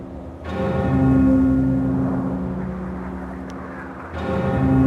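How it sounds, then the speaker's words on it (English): A deep bell tolls in the Jade Empire video game, holding a steady sustained ring for several seconds, then struck again near the end, loud and resonant over a low ambient drone. "I better have a good reason for ringing that bell"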